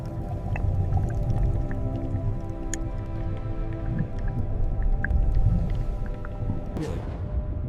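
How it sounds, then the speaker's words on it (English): Underwater orca calls: scattered clicks and a few rising whistles over a steady low rumble, with one sharp broadband burst near the end. "Orcas rely on a sophisticated language of clicks and whistles to coordinate their movements"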